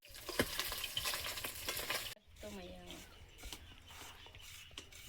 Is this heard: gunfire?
no